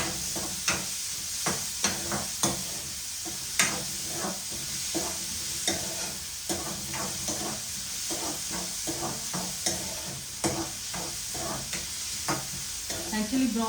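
Food fries in a pan until brownish for a diet lunch, a steady close sizzle broken by frequent, regular spatula scrapes and taps against the pan, with no voices.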